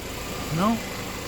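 A 2014 Chevrolet Impala engine idling steadily with the hood up, belt spinning and cooling fans running, a low continuous hum beneath a brief spoken voice.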